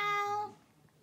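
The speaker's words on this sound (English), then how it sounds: "is there another cat here?" A single short cat meow, clear and tonal, fading out within about half a second in a quiet indoor space.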